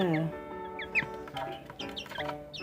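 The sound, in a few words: fancy chickens clucking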